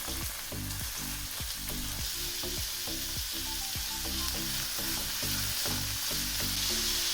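Onion sizzles in about three spoons of hot oil in a pan, a steady crackling fry with repeated scraping and stirring strokes from a spoon, close and continuous without talk.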